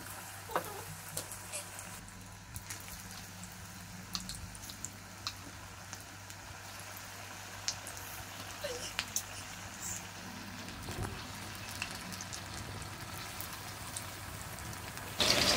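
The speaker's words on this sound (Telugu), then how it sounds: "ఇప్పుడు మనం బజ్జీలు వేసుకుందాం." Chili bajji fritters fry in hot oil with a soft, continuous crackling bubble, fairly faint and steady, with scattered small pops and a low background hum.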